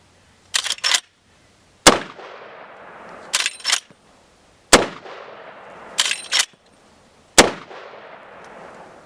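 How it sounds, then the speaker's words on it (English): Six loud, close rifle shots from a Marlin Model 1895 Dark Series lever-action in .45-70 with a muzzle compensator, each a sharp crack with a decaying echo, spaced about a second apart with short clacks from the lever cycling between them. "So we're just going to fire off a few rounds."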